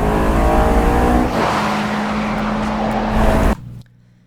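Honda S2000 engine revving high after a downshift, a loud, sustained car engine note with a steady harmonic whine that holds for several seconds, then cuts off abruptly into quiet.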